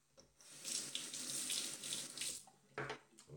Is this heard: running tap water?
yes